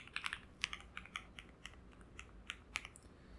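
Password keys tapped on a computer keyboard while setting up a Ubuntu virtual machine in Azure, a quick irregular run of light clicks, close and fairly quiet, with no talking.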